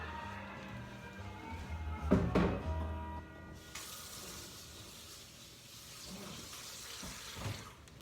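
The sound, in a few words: washing baking utensils under running tap water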